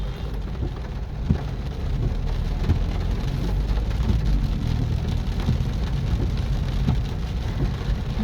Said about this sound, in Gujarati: વરસાદ તો હજી ચાલુ જ છે